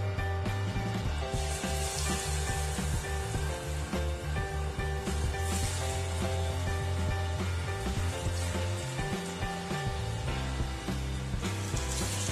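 Banana fritters (pazham pori) frying in hot oil, a loud, steady sizzle that bubbles continuously over several seconds with no talking.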